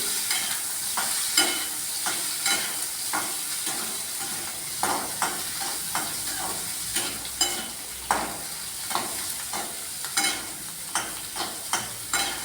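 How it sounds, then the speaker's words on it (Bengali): Boiled potatoes frying in a pan, a continuous sizzle punctuated by regular scraping strokes of a spatula as they are stirred, close and fairly loud with no talk. "আলুটা আমি একটু নাড়িয়ে নিচ্ছি"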